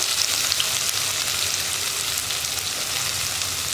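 Dried red chillies and a ground spice mix fry in a pan with a loud, bright, continuous sizzle and crackle, close and unbroken, no voices.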